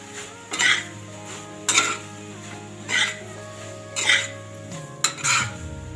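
Veg cheese pasta being mixed in a pan, a spoon scraping and clanking against the metal in five or six separate bursts with quiet pauses between, close and distinct.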